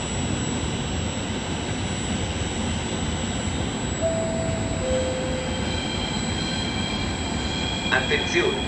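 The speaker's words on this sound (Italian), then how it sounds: "Attenzione, treno in arrivo al binario 8." A train rumbles into platform 8 at Padova station with a loud, continuous roar, a brief squeal of wheels and rising metallic tones near the end.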